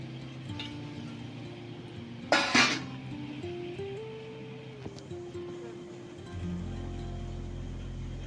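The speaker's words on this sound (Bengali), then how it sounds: "এবার আমি দেখব ঢাকাটা খুলে।" A lid lifted off a pot of chicken and capsicum steaming over a medium gas flame gives a short burst of metallic clatter. Steady kitchen hum runs before and after it, and a low rumble rises near the end.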